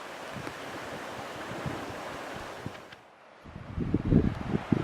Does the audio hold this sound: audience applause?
no